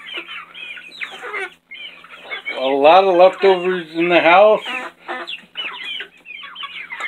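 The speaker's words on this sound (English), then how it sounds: "I'm gonna feed my birds now." Backyard chickens cluck loudly and closely at feeding time, with bursts of drawn-out, wavering calls amid busy clucking, while a person talks over them.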